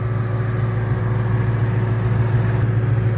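Ford Mustang GT fitted with a Cobra Jet intake manifold, traction control off, producing a loud, steady engine drone that builds under hard throttle, close to the car, with no talk over it.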